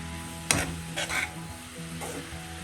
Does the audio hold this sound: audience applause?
no